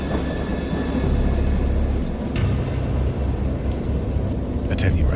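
Stormy weather in the Lovecraft horror game Dagon: steady heavy rain hisses throughout with low rumbling thunder beneath, rising to a couple of sharper cracks near the end.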